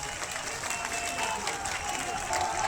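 Crowd applause at a political election rally in Rupauli, Bihar, a steady broad wash of clapping that holds at an even level throughout without a break.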